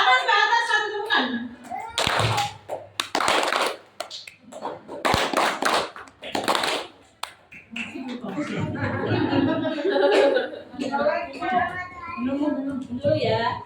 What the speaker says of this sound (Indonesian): Tangan ke atas, satu tepukan